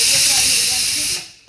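Onions with cumin and asafoetida sauté in a hot pan in a steady loud sizzling hiss that fades out near the end.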